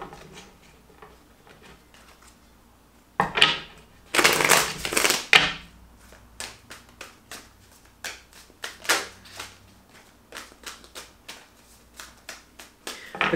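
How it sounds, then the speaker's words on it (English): A deck of tarot cards is shuffled in a quiet room, a dense rushing riffle for a couple of seconds followed by a series of soft, separate card taps and flicks, close and moderately quiet. "Two more shuffles."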